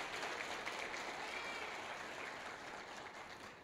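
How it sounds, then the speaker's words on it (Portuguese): Church congregation applauding the sound crew during a sermon, a soft, steady wash of clapping heard from some distance. "Uma salva de palmas por esses profissionais que trabalham"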